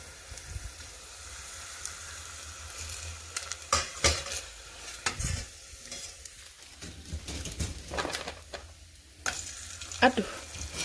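Kerupuk crackers fry in hot oil with a steady low sizzle, broken by scattered clinks and scrapes of a utensil stirring in the pan, fairly quiet and without speech.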